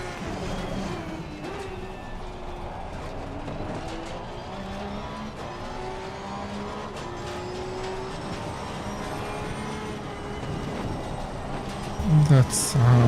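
A Porsche 992 Cup race car in the ACC racing game at Spa, engine note rising and falling through gears with a reverberant echo off trackside barriers, tyre scrubs audible, a voice talking over it.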